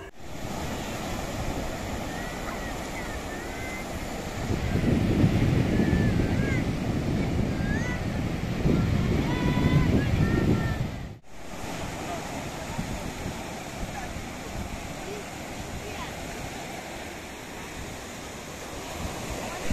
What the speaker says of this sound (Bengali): জোয়ারে এই সমুদ্রের জলগুলো কত কাছে কাছে চলে এসছে